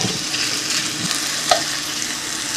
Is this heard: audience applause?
no